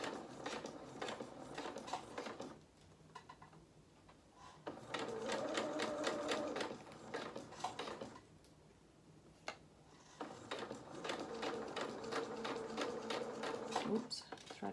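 Sewing machine top stitching a fabric jacket for a small toy rabbit, running in steady rhythmic bursts with brief pauses between runs, close and clear.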